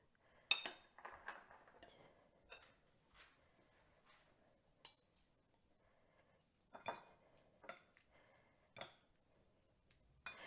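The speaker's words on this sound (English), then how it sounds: "Mix this around." Clinks and scrapes of a utensil against a dish while macaroni with sausage and broccoli is mixed, scattered light taps spread over a quiet room.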